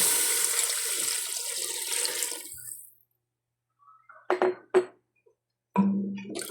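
Water streams steadily into a pot for a few seconds, then stops, followed by a few brief clanks and a short splash near the end.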